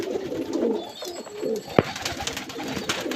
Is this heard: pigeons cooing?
yes